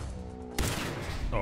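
Fallout 4 gameplay gunfire: a sudden loud shot cracks partway through, following a humming tone, with a smaller burst near the end.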